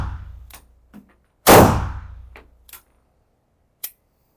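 Dry-fire trigger press on a snap cap: a sharp metallic click with a brief ringing tail, preceded and followed by faint handling clicks, close and isolated with no voices.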